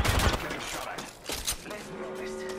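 Rapid bursts of gunfire in Apex Legends rattle in clustered volleys, loudest at the start and then thinning into scattered shots, with background game noise.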